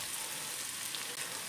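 Butter and food frying in a pan for a Georgian-style solyanka, a steady, close crackling sizzle with fine popping spread evenly throughout, no voices.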